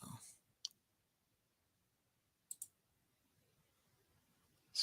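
A computer mouse clicking while browsing a digital collection: a few isolated sharp clicks spaced seconds apart, faint room noise between them and a brief bit of voice at the start.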